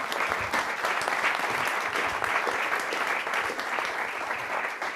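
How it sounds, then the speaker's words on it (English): An audience at an urban resilience panel forum claps for the panelists, giving a sustained, dense round of applause at steady volume with no talk over it. "a round of applause to this excellent"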